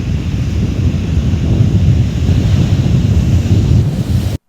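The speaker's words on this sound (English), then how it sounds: "that wave was bigger than I expected" Ocean waves surge and break on a tropical beach in southern Thailand, a steady loud roar of surf with heavy wind buffeting the microphone throughout, ending abruptly.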